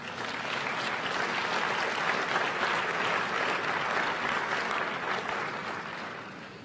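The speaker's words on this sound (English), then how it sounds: "a round of applause will be good at this particular point" A large audience at the closing ceremony of Transform Africa 2017 in Kigali, Rwanda, applauds during a signing, with sustained, dense clapping that holds steady for several seconds before easing slightly at the end.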